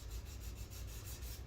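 A hand rubs steadily along a shellacked wooden bass neck sanded to 300 grit, giving a close, soft, continuous swishing friction with regular back-and-forth strokes and no voices.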